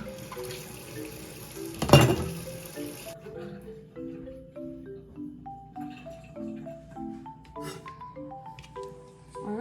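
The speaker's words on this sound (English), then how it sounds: "let me just rinse." Tap water runs into a sink to rinse freshly cut carrots, a steady rushing flow with a brief louder splash, then it shuts off after about three seconds and quieter kitchen sounds follow.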